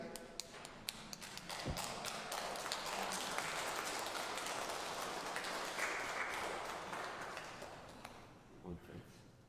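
A congregation applauds at a mass, broadband clapping rising and filling the room for several seconds before thinning out, with a few sharp taps and thuds at the edges.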